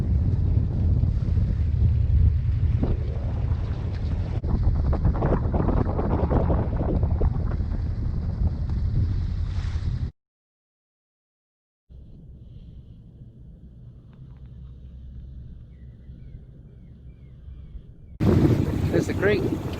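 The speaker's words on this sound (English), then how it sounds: "Force 5 winds." Strong force 5 wind buffets a small solo-sailed boat on a warm evening, a loud, rough, continuous roar that cuts out abruptly, returns as a quieter steady rumble, then surges back loud at the end.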